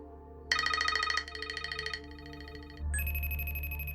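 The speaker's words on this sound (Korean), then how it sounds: "데이빗에게 걸려온 세 통의 부재중 전화." A phone rings for an incoming call in the thriller Search, a bright repeating electronic ringtone that changes tone partway through, fairly quiet and alone.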